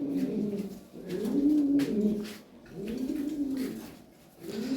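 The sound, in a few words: racing pigeons cooing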